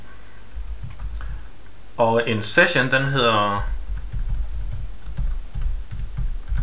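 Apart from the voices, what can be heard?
typing on a computer keyboard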